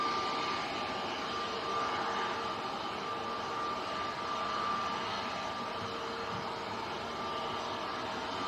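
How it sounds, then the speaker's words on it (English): A Vueling airliner taxis out at Manchester Airport, its jet engines giving a steady, broad rumble and hiss with a faint whine, constant and moderately distant throughout. "Vueling is taxiing out, going back to Barcelona"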